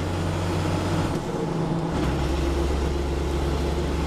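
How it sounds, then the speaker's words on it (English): Steady, loud road roar fills the cab of a Cummins-swapped Silverado truck on its first drive, with terrible tires droning continuously under low engine rumble and no talking. "It's so loud. Those tires are terrible."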